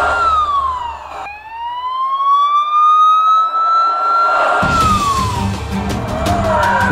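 A police car siren from a children's cartoon wails loud and close, its tone sweeping slowly down and back up, with engine rumble and clattering effects joining in the later part.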